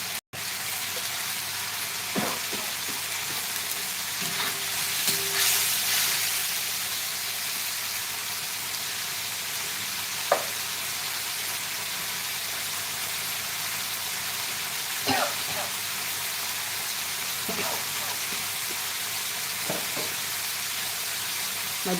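Masala is sautéed in oil for boiled egg curry, a steady hissing sizzle filling the pan up close, with occasional spoon scrapes and clicks, no speech.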